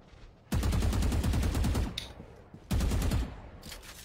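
Bursts of automatic gunfire in a shooter video game rattle loudly as shots are sprayed through smoke, one long volley, a brief pause with a faint click, then a second burst and a short tail.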